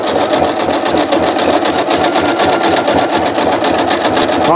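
A sewing machine stitching two pieces of rope together for a rope bowl, a loud steady rapid needle rhythm running continuously and close.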